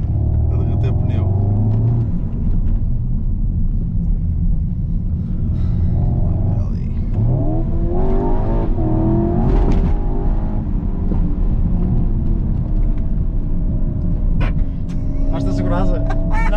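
A remapped Skoda Octavia vRS TFSI with a 200 hp engine accelerates hard. A steady, loud engine drone rises and swells around the middle of the clip, with voices talking over it throughout.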